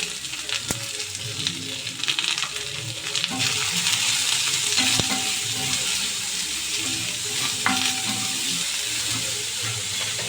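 Onions and cabbage with salt sizzle and fry steadily in a pan, a continuous close hiss with occasional clicks of stirring throughout.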